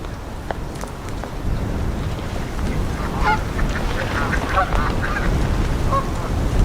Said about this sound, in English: a mixed flock of different geese and ducks